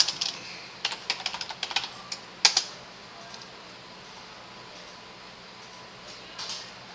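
Computer keyboard typing comes in a quick cluster of close, crisp keystrokes and a couple of firmer key presses, followed by quiet room tone with a few faint taps near the end.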